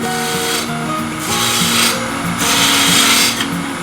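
A skew chisel cuts wood spinning on a lathe, producing a loud, close scraping hiss over the steady hum of the turning machine, swelling in a few repeated strokes.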